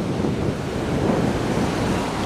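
Sea waves surge and wash over a beach eroded by the sea in Spain, a dense continuous roar of surf with wind buffeting the microphone, steady and close, with no voices.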